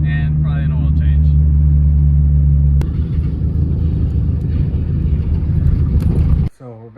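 A supercharged Ford Foxbody Mustang drives with a loud, steady low engine drone that shifts into broader rumbling road noise, then cuts off sharply near the end.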